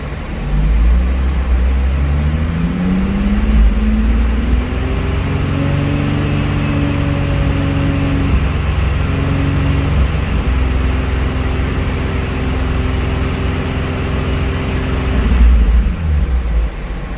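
A Nissan 350z engine runs steadily during coolant bleeding, a loud, close, continuous drone that rises in pitch as it revs up, holds at a raised idle, then settles back down.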